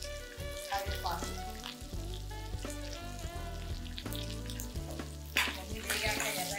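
Asafoetida, green chillies and curry leaves fry in a pan for potato-onion masala curry: a close, continuous sizzle with bubbling crackles and occasional stirring scrapes, and a soft voice faintly underneath.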